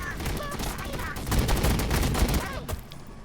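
Rapid gunfire in the Warhammer 40000 Battlesector video game, a dense burst of overlapping shots that swells mid-clip and then thins out, heard close and loud over game ambience.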